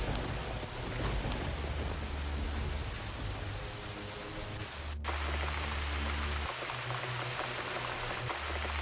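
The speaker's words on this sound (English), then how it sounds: "Few drops here and there. I think it gets the point of rain across." Steady rain falling in the video game Flashbin Gauntlet 3, a constant hiss of drops with a low rumbling bed, even and unbroken throughout.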